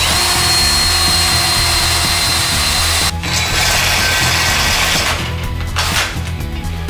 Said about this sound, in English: We'll drill and tap all these holes.